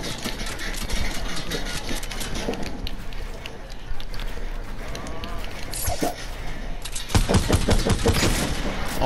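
Video game gunfire crackles in rapid bursts and scattered single shots under a steady engine-like drone, dense and close, with a heavier volley near the end while a person talks over parts of it.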